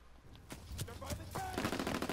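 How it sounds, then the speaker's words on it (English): Heavy gunfire in Call of Duty WWII, with several sharp shots and a rapid burst of automatic fire close by over a busy combat background, with voices around it. "Taking heavy fire!"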